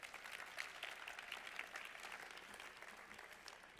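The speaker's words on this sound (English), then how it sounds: "Another round of applause for Kristen and John," A crowd at a counseling center's 50th anniversary celebration applauds a couple, giving sustained, dense clapping at low level with no break.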